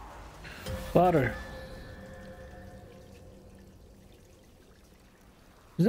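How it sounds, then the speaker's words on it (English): Water flowing steadily in Assassin's Creed Valhalla, a soft, faint pouring hiss that runs through the whole stretch after a brief louder burst and a short voiced sound near the start. "Water."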